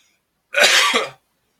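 A single short, harsh cough, close and loud, in otherwise quiet surroundings.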